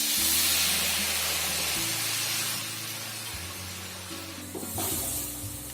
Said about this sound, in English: The mushrooms have started browning.